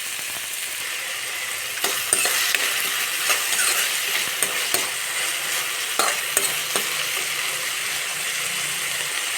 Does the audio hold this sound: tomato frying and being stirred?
yes